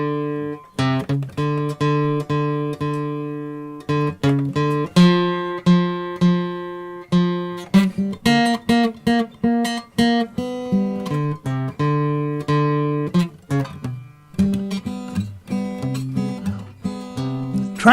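A Martin acoustic guitar is played in a slow sequence of plucked notes and chords, each one ringing out and decaying before the next, with no voices.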